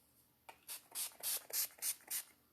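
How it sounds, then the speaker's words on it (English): Seven quick bursts of a fine makeup setting spray mist, close and hissy, following one short spritz, with no talking. "let's put on our setting spray"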